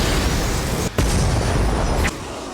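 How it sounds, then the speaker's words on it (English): Soul bomb attack explosion in the Bleach Brave Souls mobile game: a loud, continuous rumbling blast wash with two brief dips, like rolling detonations filling the scene. "Play a soul bomb."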